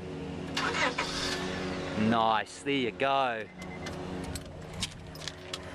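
A 1999 Honda Odyssey Type S engine cranks, catches and settles into a steady idle, with keys jangling just before the start and someone speaking briefly over the running engine.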